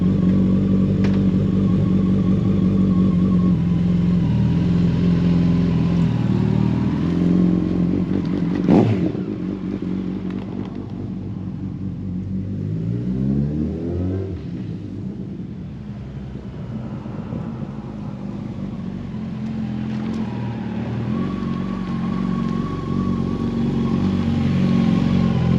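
Yamaha FJR 1300 motorcycle engine droning throughout a short neighborhood ride, with rises and dips in revs, passing traffic-like swells, close and continuous, no voices.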